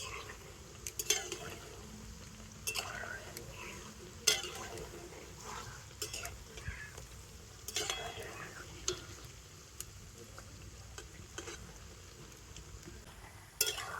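Milk-free sweets frying gently in oil on a low flame, a faint quiet sizzle under repeated clinks and scrapes of a utensil against the pan.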